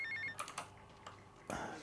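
Mobile phone stolen from a cook ringing in GTA Vice City: a brief electronic ringtone at the start, followed by quieter game sounds and soft clicks.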